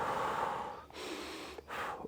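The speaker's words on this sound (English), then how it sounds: "I'm breathing right now without even thinking about it" A person takes a slow, deliberate breath, followed by two short sharp inhales or sniffs, heard close and alone with no talk.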